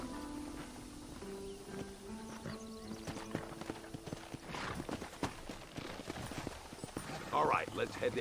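Horses in the Western video game Red Dead Redemption, with close, busy hoof clip-clops and a neigh near the end, mixed with music and voices talking.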